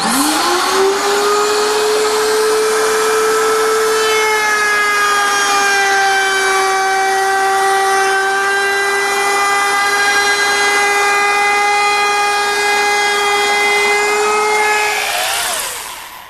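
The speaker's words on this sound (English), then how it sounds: "Now this router is mounted underneath a router table" A table-mounted router with a 3/8-inch roundover bit whirs up to a steady, loud, high-pitched whine cutting wood that holds unbroken, then winds down at the end, with no voices.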